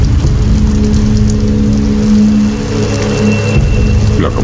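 Steady rain falls on an outdoor scene, a dense continuous wash of noise with a low engine-like rumble running underneath throughout.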